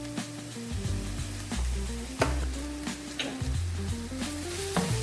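A spoon scrapes and stirs hyacinth bean (avarekalu) paratha stuffing seasoned with salt, turmeric and chaat masala in a hot pan, steady sizzling under repeated close scraping strokes, with no talk.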